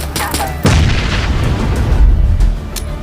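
A grenade blast in the mobile battle-royale game PUBG Mobile lands as a sudden loud boom, then a long rumbling roar with scattered crackling pops lingers for several seconds.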